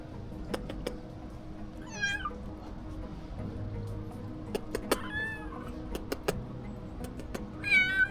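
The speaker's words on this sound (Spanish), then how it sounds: "es muy fácil pasearse por las calles y encontrar animales callejeros, principalmente gatos" A stray cat meows on a quiet city street in Europe, several separate, rising calls spaced a few seconds apart over a low, steady outdoor hum.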